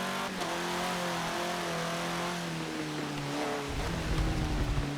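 Off-road buggy engine in Forza Motorsport 7 droning at high revs with a steady harmonic whine, then dropping into a deeper, rougher rumble near the end, loud and continuous.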